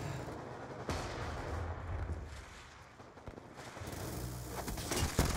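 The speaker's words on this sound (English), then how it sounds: "They're trying to shoot the sentry gun." Gunfire in Black Ops 2 on Xbox, aimed at a sentry gun, with bursts of shots and booms that rise and fall over several seconds and are fairly loud and close.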